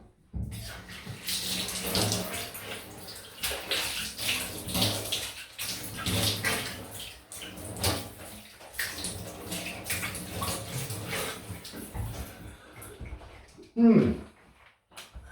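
Tap water runs and splashes as a face is rinsed after a wet shave, a close, uneven gushing that swells and dips for several seconds before a brief louder splash near the end.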